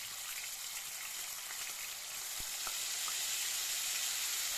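Pimento leaves dropped into a generous amount of hot vegetable oil over medium-high heat, giving a soft, steady sizzle and crackle that swells slightly toward the end, with a couple of faint pops.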